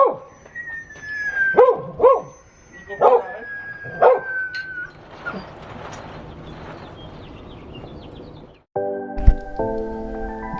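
Restless dogs bark and yip in short, sharp bursts, with whimpering mixed in, some barks close and loud, before the noise gives way to a sustained electronic tone.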